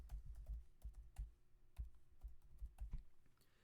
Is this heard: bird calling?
no